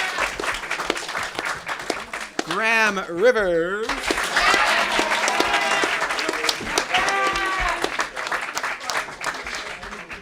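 Applause for newly selected student leaders at a spring term awards event, a dense, steady patter of clapping running throughout while a voice speaks over it announcing names.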